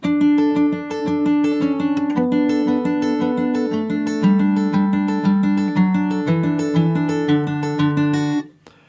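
Bright fingerpicked acoustic guitar with a capo playing a flowing melodic pattern of single notes over a bass line, clear and close, ending with a ringing stop.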